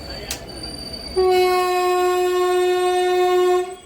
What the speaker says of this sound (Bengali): এটা one double three one nine Dumka Ranchi intercity express